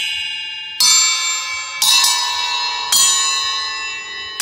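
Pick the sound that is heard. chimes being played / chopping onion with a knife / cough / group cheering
chimes being played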